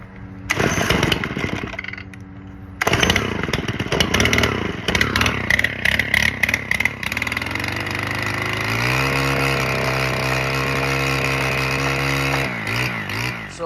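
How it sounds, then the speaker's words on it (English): A Stihl FS110 trimmer engine, freshly tuned up, starts with a few sputtering pull attempts and revving bursts, then settles into a steady, loud idle that holds for several seconds before a brief rev at the end. "So I started it up, I warmed it up, let it idle. It idles perfectly"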